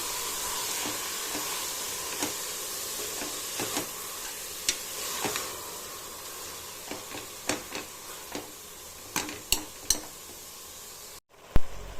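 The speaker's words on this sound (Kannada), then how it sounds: "ಎಲ್ಲ ಹಾಕ್ಕೊಂಡು ಚೆನ್ನಾಗಿ ಫ್ರೈ ಮಾಡ್ಕೊತೀನಿ" Tomatoes with fenugreek, spinach and coriander greens frying in a pan for sambar, a soft steady sizzle broken by repeated sharp scrapes and taps of a spoon stirring against the pan.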